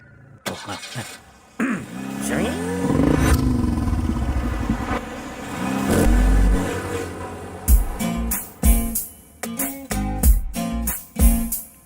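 Car engine running steadily as a vehicle is driven in a comedy film scene, a sustained hum with clattering knocks and sharp thumps toward the end, fairly loud, with no speech over it.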